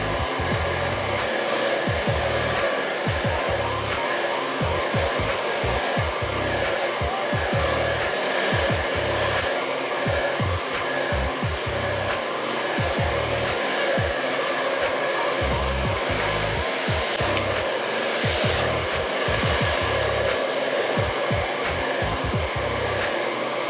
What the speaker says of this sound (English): just kind of blow dry the hair into the direction that you want your style to go